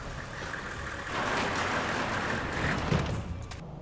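Truck engines idling and rumbling in the game Alpha Protocol, a steady low mechanical drone at moderate distance that swells slightly midway, with no other sounds standing out.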